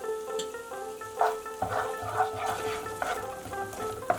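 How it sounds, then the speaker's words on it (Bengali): Ginger paste and garlic paste fry in a pan for a prawn-stuffed pointed gourd dish, giving a steady close sizzle with scraping stirs, under a continuous tonal background. "এগুলো দিয়ে একটু মিনিট 2 ভালো করে কষে নেব।"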